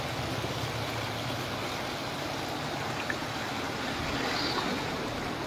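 Water gushing hard from an open pipe on a city street at night in Bengaluru, a steady, loud, unbroken rushing roar that fills the whole stretch with no pauses.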